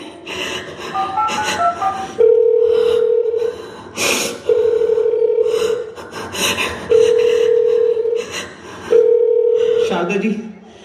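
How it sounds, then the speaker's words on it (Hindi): A repeating telephone dialing tone sounds in four long steady beeps with gaps, mixed with breathy vocal sounds and background music at a school annual day stage performance. "मेरे बेटे को फोन मिलाइए।"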